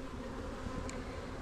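Bees buzz in a steady, dense drone around a garden hive, continuous and moderately quiet with no talking.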